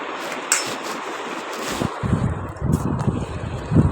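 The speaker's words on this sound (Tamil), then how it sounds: "ரொம்ப காற்றாகவும் காற்று அடிச்சிட்டு இருந்தது" Strong wind buffets the microphone on an open, crowded seashore near Dhanushkodi, Rameshwaram, a steady roar with louder gusts and low rumbling bursts throughout, no clear voices.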